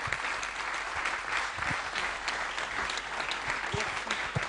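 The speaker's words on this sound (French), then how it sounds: "On peut l'applaudir bien fort." An audience at a JCE Tours event applauds loudly for a guest on a radio broadcast, a dense, continuous patter of many hands with occasional sharper claps standing out.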